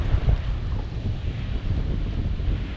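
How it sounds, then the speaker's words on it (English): Wind gusts buffet the microphone beside a lagoon used for kiteboarding, a loud low rumbling roar with uneven pulses and faint water wash underneath, no voices. "The wind was very, very inconsistent throughout the day."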